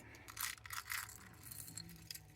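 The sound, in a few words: beads being sorted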